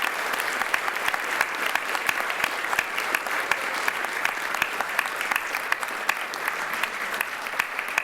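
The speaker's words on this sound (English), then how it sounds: "Can we get another round of applause for the runners, please?" Loud, sustained audience applause at a speedrunning event, AGDQ 2015, with rapid dense clapping throughout, close and energetic, no voices standing out.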